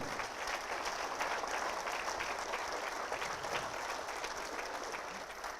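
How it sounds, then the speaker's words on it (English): Steady audience applause at a city State of the City address fills the whole stretch, dense and even, fading slightly at the end with no speech over it. "a round of applause for them"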